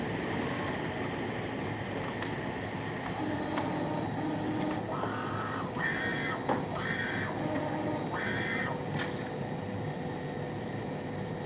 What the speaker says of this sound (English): let's get this printer going over here, and then we'll get that printer going over there.